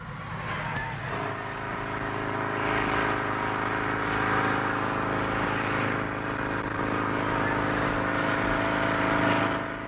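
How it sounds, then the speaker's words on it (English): A homemade hover scooter of plastic and plywood, driven by a motorcycle engine, drones steadily and loudly for the whole stretch, its buzzing note rising slightly after a moment and holding with small surges. "it's powered by a motorcycle engine"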